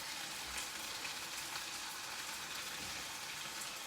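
Vegetables for a chicken stir-fry fry in a pan, a steady close sizzle and crackle with soft pops, continuous and even throughout with no voices.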